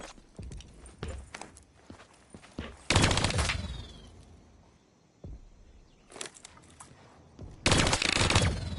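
Rapid bursts of turret gunfire in a sci-fi combat video game, loud clustered volleys separated by quieter stretches of engine rumble and effects.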